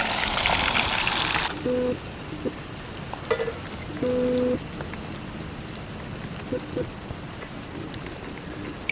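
Fish frying in a small kadai outdoors in a natural setting, with a loud, dense sizzling hiss at first that settles into a steady crackling spatter with scattered pops.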